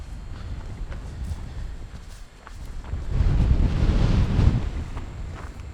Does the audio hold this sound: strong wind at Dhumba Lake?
yes